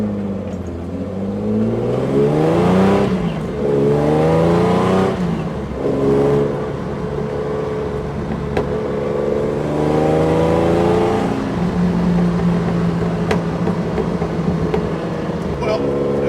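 Open Weber carburettors with bare intake trumpets and no filters on a lightweight Jaguar E-Type, held around 3,000 rpm, give a loud, steady engine drone with rising and falling pitch sweeps, while someone talks over it.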